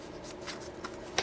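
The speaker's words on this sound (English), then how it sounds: "I'm going to just shuffle one more time" Tarot cards shuffle briefly and quietly in a quick series of soft riffling flicks, close up, ending in a sharper snap.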